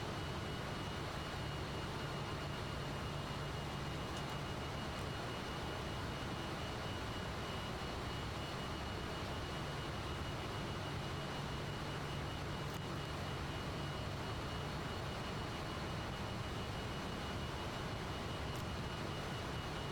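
Steady, droning engine and airframe roar from a Fokker F28 jet airliner in flight simulation, a constant broadband rumble with a faint whine, unbroken and without voices.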